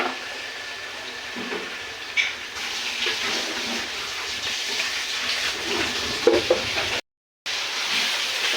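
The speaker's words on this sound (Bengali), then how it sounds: "আমি আর একটু তেল দিয়ে দিলাম" Oil sizzling in a pan while cooking chicken biryani, a steady close hiss running throughout with occasional stirring scrapes and a brief dropout near the end, no voices.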